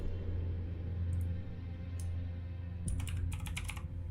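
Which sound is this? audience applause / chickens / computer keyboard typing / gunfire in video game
computer keyboard typing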